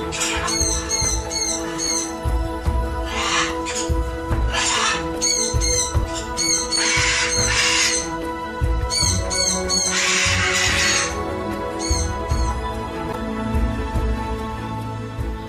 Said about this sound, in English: a flock of macaws, shrieking and displaying their beautiful colors in the evening sun